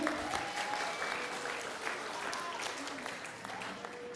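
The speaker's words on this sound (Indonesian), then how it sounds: "Berikan tepuk tangannya dulu." Audience applause fills a hall during the 2022 final of a Bali pop singing competition in Singaraja, steady and fairly faint, with some background voices mixed in.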